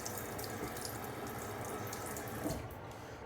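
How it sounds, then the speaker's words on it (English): Steady close-up stream of water from a tap running over a razor blade held under it for rinsing, a continuous splashing hiss with no pauses and no speech. "Rinse off the blade here."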